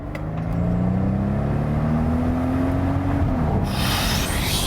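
Grand touring car engine revving, a strong rising drone that climbs steadily in pitch, then cuts off into a rushing, roaring burst at the end.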